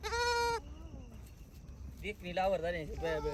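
A sheep bleats loudly and close for about half a second, a long wavering call, followed by low rumbling background noise and then a person talking; the setting is a flock of sheep being dosed with medicine on a farm.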